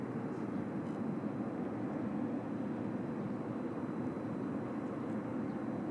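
A Qatar Airways Boeing 777 on final approach at Suvarnabhumi gives a steady, broad, low rumbling roar that holds even and fairly loud throughout, with no voices.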